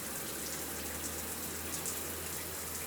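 A running shower sprays water onto a person's body, giving a soft, continuous hiss and patter with a faint low hum beneath, quiet and steady throughout.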